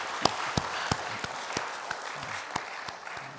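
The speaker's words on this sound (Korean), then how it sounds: "박수 한번 해드리겠습니다" A church congregation claps during a Mother's Day Sunday service, a steady wash of applause with a few sharp, distinct claps punctuating it, fairly close and unbroken for the full length.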